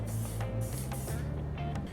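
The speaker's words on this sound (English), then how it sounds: "One thing you're gonna need is some spray adhesive" Aerosol can of spray adhesive, used to fix paper templates onto wood for intarsia woodworking, gives a steady hissing spray in short surges over a low background hum.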